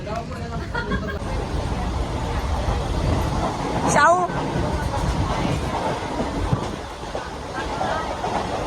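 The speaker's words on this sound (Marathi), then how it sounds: "आपण आता ट्रेन मध्ये बसलेलो आहे" Steady rumble and rattle of a moving train carriage near Malavali station, Maharashtra, with faint background chatter from passengers.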